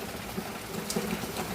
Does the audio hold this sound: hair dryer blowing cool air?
no